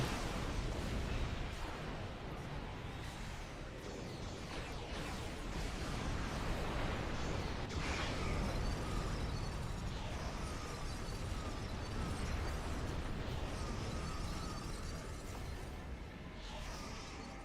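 Starship torpedoes firing and exploding in Star Trek Online, a dense continuous wash of blasts, bursts and rumbling impacts that stays loud and busy throughout.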